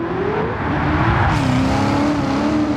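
The Red Devil Camaro, a Stielow Engineering race car, drops down to second gear on a track approaching a tight carousel turn, its loud close engine note falling and rising in pitch as it downshifts, with no talk.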